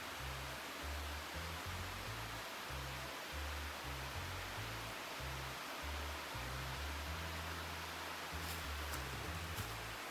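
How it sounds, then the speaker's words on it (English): A waterfall rushes in a steady broadband hiss, faint and distant, continuous throughout with a low rumble underneath and no voices. "I love a waterfall."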